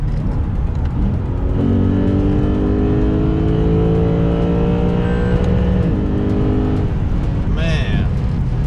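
A Lexus RC F accelerates hard on a highway, its engine note rising steadily through a strong, loud pull before easing off, with some talk in the cabin.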